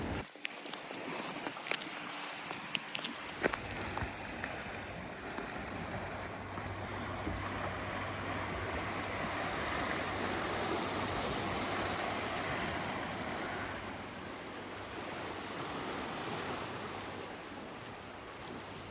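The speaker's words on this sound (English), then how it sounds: "You get to just watch the waves roll up." Atlantic Ocean waves rolling up onto the shore, a steady broadband wash of surf with wind noise, continuous and fairly close throughout, with a few brief knocks near the start.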